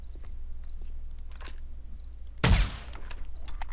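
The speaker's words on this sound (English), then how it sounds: "That's not crickets already, is it?" Cricket chirps from the night ambience of the survival game 7 Days to Die (Darkness Falls), short high trills repeating every half second or so over a low steady hum, with one loud gunshot-like burst cutting in near the middle.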